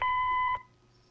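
A single electronic answering machine beep from the mystery game Duskwood, a clear steady tone lasting about half a second, then near silence with faint hiss.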